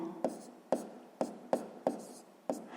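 Pen writing math on paper at close range, six short regular scratchy strokes with soft taps, quiet and alone.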